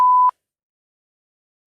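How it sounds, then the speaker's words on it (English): A single short, pure censorship beep at about a thousand hertz, loud and clean, cutting off sharply after a fraction of a second and followed by silence. "where I've selectively beeped them out"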